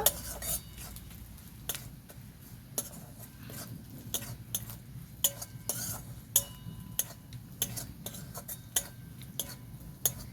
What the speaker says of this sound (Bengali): এক চামচ দিয়ে দেবো জিরে গুঁড়ো, ভালো করে কষিয়ে নেব।